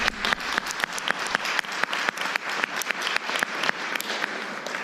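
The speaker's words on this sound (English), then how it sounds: "Can we give a round of applause to Maria for facilitating" A room full of people at an award speech event gives a sustained round of applause, many overlapping claps in a lively, even patter with no speech.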